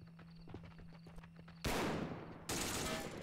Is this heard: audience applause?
no